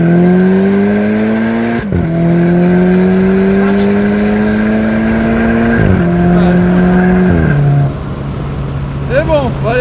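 VW Polo GTI with a DSG automatic gearbox pulling hard with wheelspin, engine note climbing steadily through several gear changes, loud and close, with voices faintly at the end.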